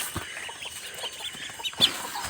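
Ducks cluck and call softly at close range over a quiet outdoor background, with one sharper squawk near the end.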